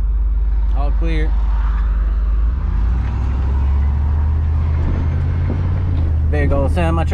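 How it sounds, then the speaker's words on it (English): A semi truck rumbles past with a loud, deep roar that swells and fades, while a person talks briefly at the start and end. "Big old semi truck."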